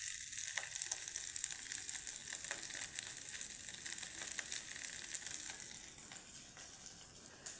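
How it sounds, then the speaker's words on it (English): Silverfish deep frying in hot oil give a steady, close hiss of sizzling with scattered crackles and pops that runs through the whole stretch, with no talking. "So you have to deep fry your silverfish until they are golden brown."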